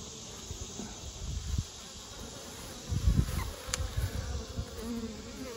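Honey bees buzz steadily and close by, a dense droning hum that swells and fades in low pulses.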